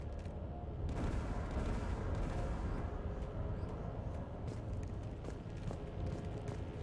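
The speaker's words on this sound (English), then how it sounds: "Mounted turret." Mounted turret gunfire in Mass Effect 3, a dense continuous rattle of rapid shots and booms at moderate, steady loudness with no talking.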